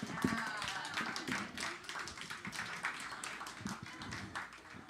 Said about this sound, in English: Another round of applause for Loren Niemi.